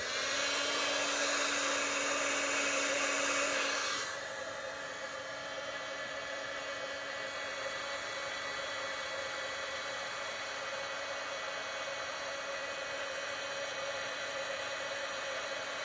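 A heat gun blows on a stamped card as a close, steady hiss with a thin whine. After about four seconds it drops to a quieter, even whir that continues to the end.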